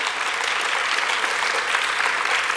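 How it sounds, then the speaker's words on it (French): A room full of people clapping steadily, a dense, even burst of applause with no voices standing out. "j'aimerais bien un tonnerre d'applaudissements pour eux et pour elles"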